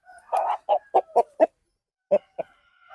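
A fighting rooster raised for Sankranti cockfights gives a series of close, loud, clipped clucks in quick succession, then pauses before two more clucks and a soft trailing call.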